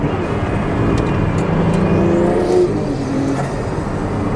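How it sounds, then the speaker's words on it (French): A turbocharged car engine revs and accelerates with a steady, loud drone and a brief whistling turbo rise, heard up close with no talking. "les bruits de turbo, c'est un kiff"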